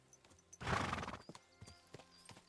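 A horse's hooves clop in a loose, uneven walking rhythm through trees, nearby, with a brief louder burst of movement early on and quiet outdoor ambience throughout.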